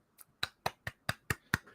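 Seven sharp single hand claps in a steady rhythm, close and fairly soft, with no other sound around them.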